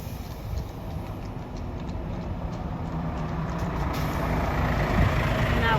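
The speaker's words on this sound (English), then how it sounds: "Now we've got the biggest lorry, double curtain sider." A large double curtain-sider lorry approaches on a busy main road, its deep broadband engine rumble and road roar swelling steadily louder and near.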